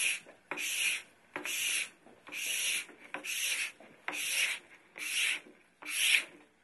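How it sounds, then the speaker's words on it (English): A scraper draws across a waxed ski base in eight steady, rhythmic strokes, each a dry close scraping rasp with brief pauses between passes. "just use the notch in your scraper to get rid of the wax on the edges"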